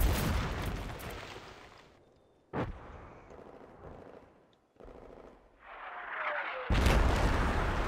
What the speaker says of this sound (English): I've called an artillery barrage.